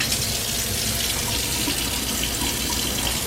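Cold tap water running steadily into a sink or bowl to soak sticky rice in a Lao home kitchen, a continuous close hiss and splash with no pauses.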